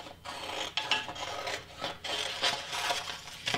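Scissors cutting through a sublimation print, heard as a series of close, rasping snips and sliding cuts in an uneven rhythm with no talk.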